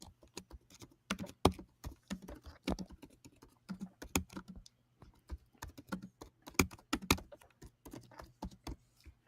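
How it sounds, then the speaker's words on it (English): Hard, fast typing on a computer keyboard, bursts of sharp clacking keystrokes with short pauses between runs, close by and alone with no talking. "Who the hell is hammering the keyboard?"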